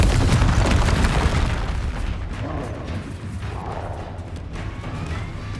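A Confringo fire blast spell bursts in Hogwarts Legacy, a loud deep boom that opens the clip and rolls into a long rumbling decay, with the low roar fading but persisting throughout.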